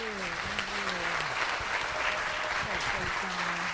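Audience applause after a speech, dense clapping from many people filling the room, with a voice speaking over it.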